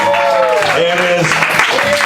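A live radio show studio audience claps again, steady continuous clapping with voices and cheering mixed in throughout.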